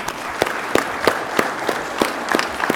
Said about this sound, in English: we should give our presenters another round of applause